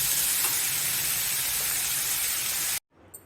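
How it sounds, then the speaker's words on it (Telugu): Tempering (popu) sizzles loudly for a jackfruit curry (panasapottu kura), a steady broadband hiss of hot oil that cuts off abruptly near the end, leaving near-silence. "పోపు పెట్టాను కదా"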